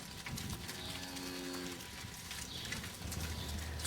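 Cattle lowing in a dairy farm collecting yard, a drawn-out moo near the start followed by another deep low call, moderately close over a busy outdoor background with faint bird calls.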